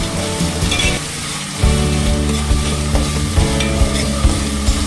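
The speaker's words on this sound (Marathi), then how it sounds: "ही सुद्धा तेलात छान परतून घ्यायची आहे त्याचा कच्चपणा निघेपर्यंत आपल्याला ती छान तेलात परतायची आहे" A paste of ginger, garlic, chili and coriander sautés in hot oil for an Aagri-style goat head curry, giving a steady loud sizzle with repeated scraping stirs of a spoon in the pan, close up and with no voices.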